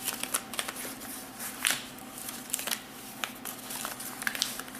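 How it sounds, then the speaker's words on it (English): Paper being creased and folded down at the corners for an origami flower fold, giving soft crinkling and rustling in short irregular bursts, close and fairly quiet, with no talking. "Fold them down."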